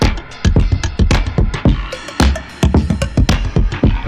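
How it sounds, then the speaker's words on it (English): A beat run through the pitch-shifting effect of the Teletone Audio Soulfi plugin, with loud, punchy drum hits in a quick, choppy rhythm and processed tones between them. "I still would just love that pitch shifting sound."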